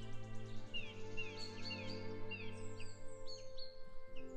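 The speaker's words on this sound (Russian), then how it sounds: "Слушал пение птиц и веселую болтовню насекомых." Birds sing with repeated high chirps and trills over a steady low hum, faint and somewhat distant, with no voices.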